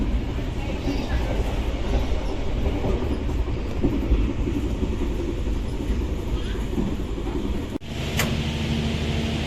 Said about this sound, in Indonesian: perjalanan saya dengan kereta api berantas kelas eksekutif sudah sampai di stasiun Kertosono